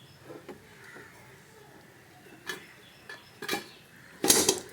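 A pizza pan topped with chicken pieces being lowered into a pre-steamed cooking pot for oven-free baking: soft scattered metallic taps and clicks, ending in a louder clattering clank of metal on metal.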